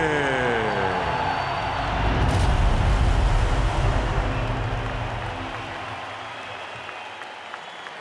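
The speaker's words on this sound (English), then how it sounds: "of anticipation from the crowd" A large boxing arena crowd roars ahead of a heavyweight title fight featuring Oleksandr Usyk, a broad, loud swell of cheering and applause that builds in the middle and then gradually fades.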